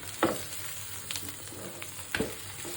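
Large tilapia pan-fried barbecue style, sizzling steadily in hot oil with a couple of sharp scraping clatters as it is turned.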